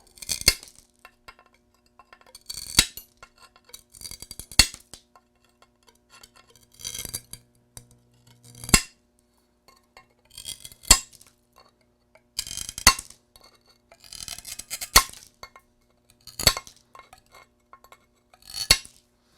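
Glass mosaic pieces for a tree-limb coffee table being cut and fitted, heard as sharp clinks, snaps and small taps scattered irregularly, close and fairly quiet.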